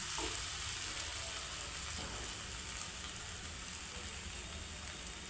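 Dried shrimp and tomato curry with chilli powder stirred in a pan, a steady, faint sizzle and bubbling with soft scraping, continuous and close.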